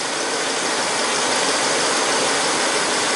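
A car engine runs steadily under the hood while the A/C is being topped off, a loud continuous mechanical drone with a fine ratcheting texture and no breaks or talk.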